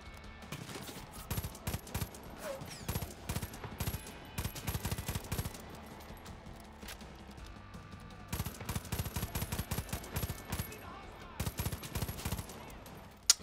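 Sniper and rifle fire crackles in the Far Cry 5 shooter, bursts of rapid gunshots at moderate loudness broken by a short quieter lull before the shooting resumes.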